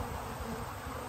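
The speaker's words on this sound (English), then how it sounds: "It's the bees that come back up top" Honey bees buzz loudly and continuously around a hive, a dense close droning hum with no pauses.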